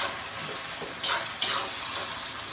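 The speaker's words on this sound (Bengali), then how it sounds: "এখন একটু আলু ভাজা বানাচ্ছি" Potatoes frying in a home kitchen pan make a continuous low sizzle, interrupted by two sharp, brief stirring scrapes near the middle, with no voices.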